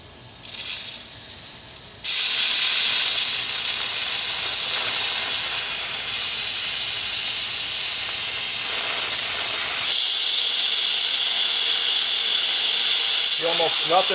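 Compressed air bursts into a loud, sustained broadband hiss as the drain valves on a water separator below an air chiller are cracked open, starting after a brief softer spurt and holding steady, with a faint voice near the end.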